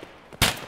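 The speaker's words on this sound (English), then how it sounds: "Oh, there's another one shooting at me!" A single loud burst of enemy gunfire cracks out in a squad-based video game firefight, sharp and close, after a stretch of low background noise.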